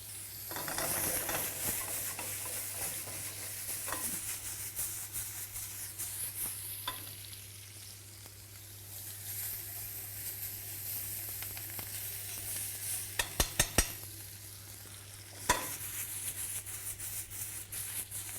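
Food fries in a pan with a small knob of butter, a soft continuous sizzle and hiss with occasional stirring scrapes and a few sharp clicks near the end, heard up close with no talking.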